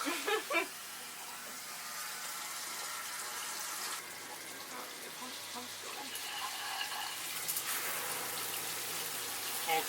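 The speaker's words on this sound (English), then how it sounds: "now that the water's coming out of the top of the shower" Water runs steadily in a recirculating shower installed in a van, a continuous hissing splash that shifts slightly in tone partway through, with a few brief knocks near the start.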